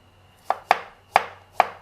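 A knife slicing shallots on a cutting board, four crisp evenly spaced chops close up with quiet pauses between, no voices.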